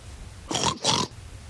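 A pig's oink, two short grunting calls in quick succession, loud and close over a low background hum.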